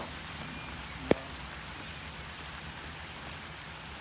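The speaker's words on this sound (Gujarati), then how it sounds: "આ જો આ વરસાદ રહ્યા છે" Rain falls in a steady, soft hiss outdoors, with one sharp click partway through.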